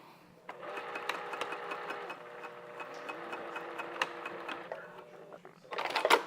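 A sewing machine stitches a seam on a top, a steady close mechanical whir of rapid ticking stitches running for several seconds, then stopping and followed by brief handling noise.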